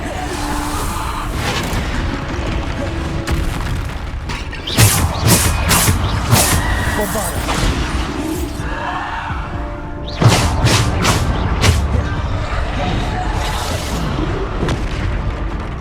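Bombarder spell blasts in the video game Hogwarts Legacy burst as loud booming impacts in scattered clusters over a busy rumbling battle bed.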